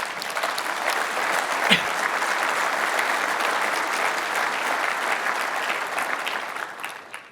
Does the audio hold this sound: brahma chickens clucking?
no